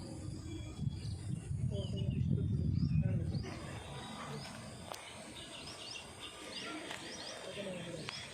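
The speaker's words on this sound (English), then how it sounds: "You can hear the sound of birds, chirping of birds." Birds chirp and tweet in a flooded village field near Hyderabad, with scattered faint calls over quiet outdoor ambience and a low rumble early on.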